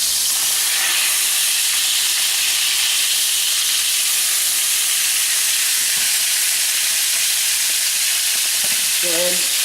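Grouper sizzles steadily in a hot pan right after being flipped, a loud, dense, continuous frying hiss heard close up with no talking.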